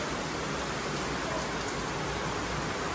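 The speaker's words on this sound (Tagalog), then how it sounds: "Grabe naman tong ulan na to." Heavy rain pours down in Manila, a dense, steady roar of drops hitting surfaces that stays loud and even throughout, with no voices.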